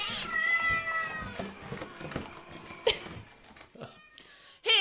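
Several kittens meowing in a medieval court scene, a run of thin, high mews with a sharper cry near the middle and another loud one at the end, with no talking.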